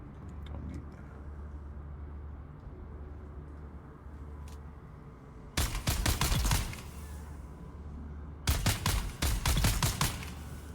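In Dune: Awakening, a gun fires two loud rapid bursts of closely spaced shots, each lasting about two seconds and separated by a quieter stretch, over a low ambient rumble.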